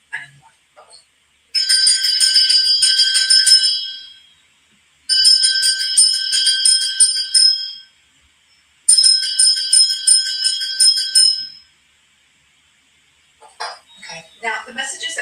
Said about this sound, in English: I'm going to be bringing a bell just to come to space around us.